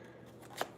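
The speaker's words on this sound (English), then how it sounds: "We're getting the shuffle on here real quick." Tarot cards are shuffled quickly in soft, close rustling with one brief sharper snap near the end.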